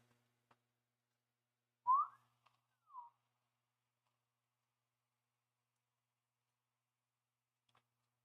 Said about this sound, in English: that's the kind of whistle where you like push up against your teeth